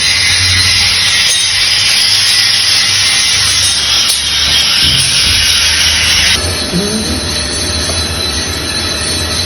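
Hydraulic cutter slicing through steel, a loud continuous grinding, squealing screech that holds steady for several seconds, then drops to a lower rumbling tone near the end, with no talk over it.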